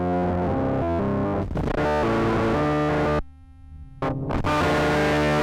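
A rare GmeBogosse4M analog synthesizer driven into saturation plays thick, buzzing distorted tones, loud and continuous, with a brief drop to a thinner, quieter passage before the full, gritty sound returns.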